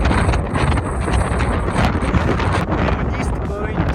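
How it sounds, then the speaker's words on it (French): Gusting coastal wind at East Point on the Isle of Skye rushes loudly across the microphone in a continuous blustery roar, with a person talking underneath it. "il y a du vent"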